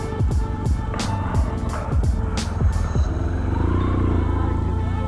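An MV motorcycle rides past in the village of Helmsley, its engine rumbling close and steady with a few rising and falling pass-by sweeps over the constant drone of the rider's own bike.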